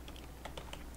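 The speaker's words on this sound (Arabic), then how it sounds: "راح اكتب نانو ثم اكتب مثلا دوكي دوت ليست" Someone types a nano terminal command on a computer keyboard on a Debian system. About half a dozen quick, close keystrokes land within a second, with a faint hum under them and no speech.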